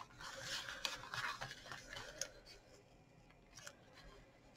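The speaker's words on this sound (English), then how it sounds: "when you're taking your washi tape off, just try and remove it very gently" Washi tape being peeled slowly and gently off decorative paper on a card, giving soft, close, papery scratching and faint tearing rasps that fade toward the end.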